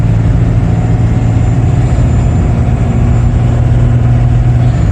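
Steady, loud low drone of a Cummins 12-valve diesel with compound turbos pulling a truck uphill in third gear, a constant heavy rumble heard from inside the cab without a break.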